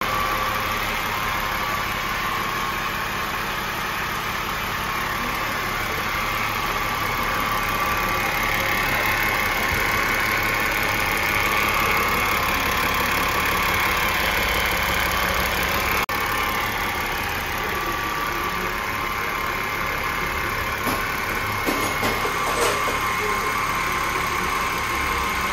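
A BMW X5 3.0 diesel engine idles steadily for a long stretch, with a constant hum and a faint whining tone from a faulty power steering pump over the low rumble.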